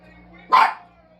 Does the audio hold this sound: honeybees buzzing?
no